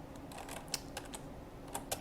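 Light typing on a computer keyboard, a handful of soft irregular key clicks close by at low volume, with no talk.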